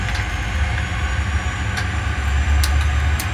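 Inside a Ryanair airliner on approach from Miami to Havana with gear and flaps going down, a loud, steady engine and airflow rumble fills the cabin, broken by a few faint, short clicks and thumps, with no one speaking.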